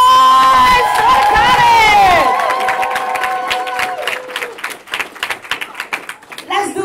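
A crowd of college students at an orientation event cheering, whooping and shouting together, a loud sustained roar of voices that breaks into scattered claps and yells as it trails off.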